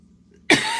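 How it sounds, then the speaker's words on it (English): A woman lets out a single sharp cough close to the microphone, loud and sudden after near silence, trailing into a short breathy rasp. "so I'm coughing again"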